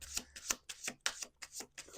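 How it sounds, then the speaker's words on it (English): A deck of oracle cards is shuffled by hand in a quiet room, a run of about seven crisp riffling bursts, close and steady in rhythm, with no one talking. "Let's do 2 more shuffles."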